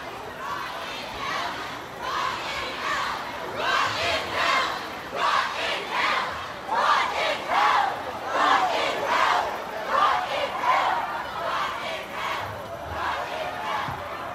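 A protest crowd marches through downtown Lincoln at night, with many voices chanting and shouting in steady rhythmic bursts, loud and close, continuing throughout.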